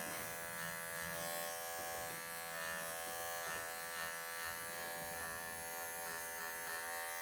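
Electric clippers buzz steadily and close up, with a strong harmonic hum, as they trim a tight matted knot from a cat's belly fur during grooming, running without a break.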